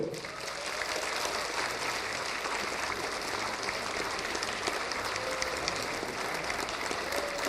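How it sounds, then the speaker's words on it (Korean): Audience applause greets an author at a Guro-gu book declaration ceremony in Seoul, a steady dense crowd clapping that fills the hall for the whole stretch without pause. "작가님을 박수로 맞이해 주십시오"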